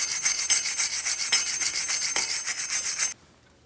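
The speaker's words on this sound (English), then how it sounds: "You can use a wire brush or a light sanding disc." A wire brush scrubs back and forth against a Jeep Grand Cherokee's metal rear wheel hub surface in quick rhythmic strokes, close and harsh, then stops abruptly.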